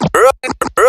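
DJ record scratch cut with a crossfader button pattern: a quick burst of five chopped scratch strokes in under a second, loud, close and alone.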